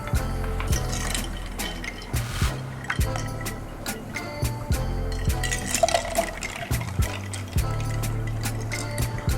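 Ice cubes drop into freshly brewed V60 pour-over coffee, with repeated clinks, splashes and liquid sloshing at close range through a steady background hum, no voices.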